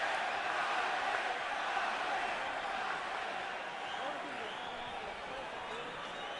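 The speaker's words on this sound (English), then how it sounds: "And now the crowd begins to chant for Pacquiao." A large boxing arena crowd roars and chants for Pacquiao and Marquez, a dense, steady wash of many voices that stays at a constant level throughout.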